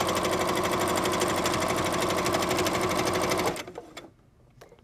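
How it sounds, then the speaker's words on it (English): A sewing machine with a ballpoint needle stitching knit fabric, running in a fast, steady mechanical rattle for about three and a half seconds before stopping, followed by a few faint clicks and handling sounds. "I also have a ballpoint needle in my machine that will sew through a knit better."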